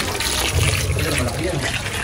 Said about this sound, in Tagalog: Nilalagyan lang po ni Tito Makoy po ng tubig para hindi mainit.